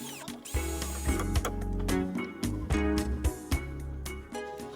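Screws being driven into glued wooden arch feet with a power screwdriver, repeated whirring bursts of the motor with short pauses between, close and clear, no talk.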